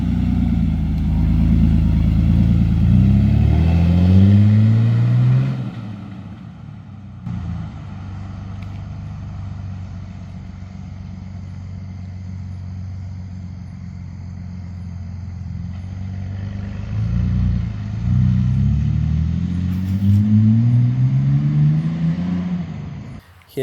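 Car fitted with a new MBRP muffler that dumps right after the muffler, revving in rising sweeps at the start, settling to a rumbling idle, then revving up again near the end, loud and close.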